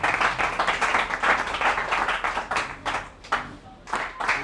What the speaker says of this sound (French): Très bien, on applaudit très fort.